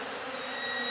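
Dense, steady buzzing from many honeybees being hived, close and continuous, with a few higher whining tones from individual bees passing near.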